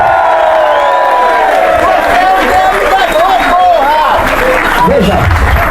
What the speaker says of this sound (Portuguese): Salva de palmas para a ameaça fascista.